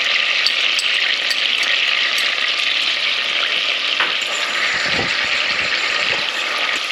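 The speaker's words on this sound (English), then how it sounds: "Once the butter's melted, we're going to add the garlic" Garlic sizzles in melted butter in a pan with a steady, loud, close frying hiss, and a few soft stirring clunks come near the end. No one speaks.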